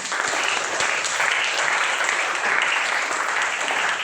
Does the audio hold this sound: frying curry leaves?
no